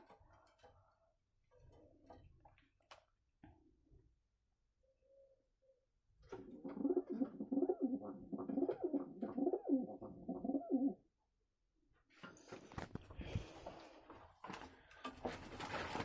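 Pigeons coo in a sheltered coop or nesting area, a soft, low, continuous murmur of cooing that rises to a steady stretch mid-clip, with scattered ticks, rustles and knocks around it.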